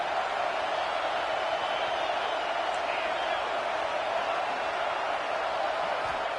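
A stadium crowd in the football video game NCAA 26, Oregon versus Penn State, sends up a steady, dense roar that fills the background without break, with a play-by-play commentator's voice underneath.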